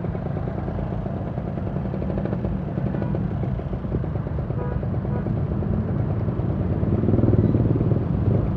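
A 2012 Kawasaki Ninja R two-stroke motorcycle engine runs with a rough, buzzing, rattly drone heard close throughout, steady and loud, swelling slightly near the end as revs rise.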